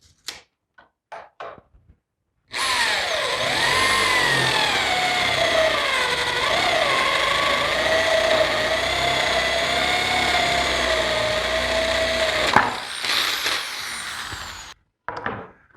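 A power drill bores holes into wooden sides for double cubbies for 220 body-grip traps, a steady loud whirring whine running about ten seconds without pause, with faint knocks and handling noises before and after.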